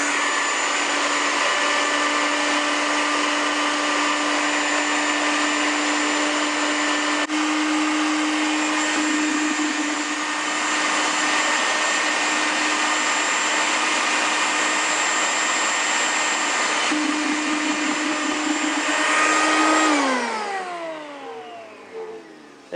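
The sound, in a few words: electric grinder pulverizing sugar for bee patties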